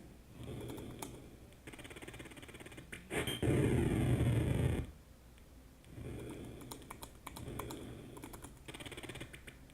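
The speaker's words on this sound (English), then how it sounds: "So I'm using this little Mac keyboard." Quick, light keystrokes on a small Mac keyboard patter in bursts, with a louder, denser stretch midway before the steady typing resumes, close and alone.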